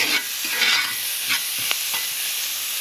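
Onions and crushed garlic sizzling on a grill for collard greens, a loud close hiss of frying with a few soft stirring scrapes and taps.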